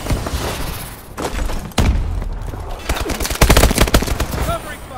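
Rapid gunfire bursts and heavy thuds from a Call of Duty: Advanced Warfare multiplayer match, dense and loud, building to a sustained barrage toward the end, with game voice callouts mixed in.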